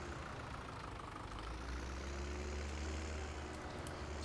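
A tractor engine idling in Farming Simulator, a steady low diesel rumble held at an even level, close and uninterrupted, with no talking.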